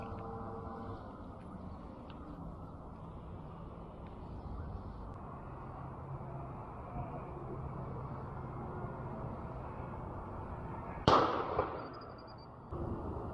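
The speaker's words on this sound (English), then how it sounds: "I'm pretty sure that was a gun." A single distant gunshot cracks out near the end, a brief sharp report with a short fading tail, over steady outdoor background noise while crappie fishing on the Guadalupe River.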